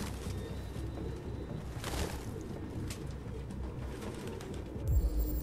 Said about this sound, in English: All these pigeons.